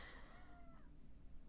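A cat meows near a tarot reader, giving a short, faint high call that falls in pitch and is heard alone over low room hum.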